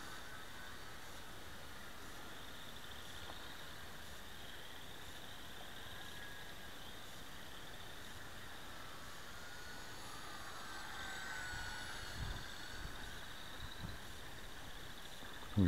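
A UMX Carbon Cub RC airplane flies over a yard in the evening, its electric motor a faint, steady whine heard at a distance over even background hiss.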